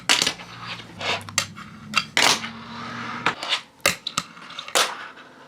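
A fingerboard clacks through a nollie flip out trick on a small homemade planter setup, sharp wooden and metallic taps and clatters scattered across several seconds with a low hum beneath.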